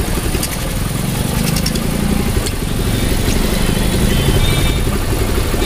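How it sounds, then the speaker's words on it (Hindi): A Hero Impulse motorcycle engine idles steadily with a low, throbbing exhaust note, close and continuous throughout. "बाकी एग्जॉस्ट नोट सुनो बिल्कुल आइडल कंडीशन पे"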